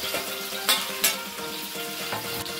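Tomatoes and green chillies fry in hot oil in a pan, giving a steady close sizzle broken by a few sharp spatter bursts and faint scraping, with no voices.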